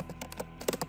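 Rapid, light keystrokes on a computer keyboard, about eight quick close clicks in under a second, quiet and without talk.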